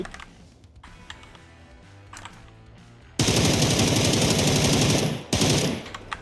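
Heavy automatic gunfire in the PUBG battle royale video game bursts in loud and sustained for about two seconds, breaks briefly, then resumes, following quieter game ambience with faint clicks.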